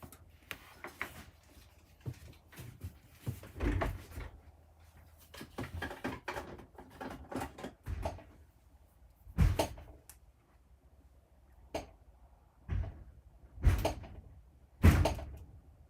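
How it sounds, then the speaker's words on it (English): A weather-swollen front door is forced shut, giving repeated heavy thuds and scraping bangs at irregular intervals, loud and close, with quieter rattling between the blows. "Hubby's trying to close the front door."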